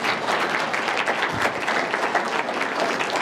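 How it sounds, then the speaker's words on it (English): Applause from a lunchtime audience at a banking IT learning event, a brief burst of dense clapping that stays fairly even for a few seconds, with one low thump partway through. "Ladies and gentlemen, a round of applause for Mark Terry."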